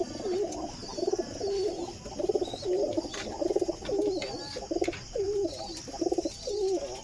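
Several unpaired male pigeons coo at night, a run of repeated throaty rolling coos in quick phrases, close and fairly clear over quiet background.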